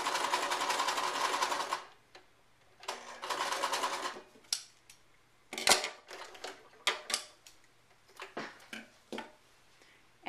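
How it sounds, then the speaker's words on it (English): A sewing machine stitches fabric quilt pieces together in bursts: two long whirring runs, then a series of short, sharp stitching stops and starts, close and clear with no talk. "you stitch those together"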